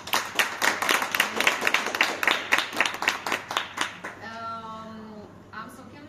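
Hands clap in a steady rhythm from a modest crowd at an art exhibition opening, lasting about four seconds before a voice starts speaking as the clapping fades.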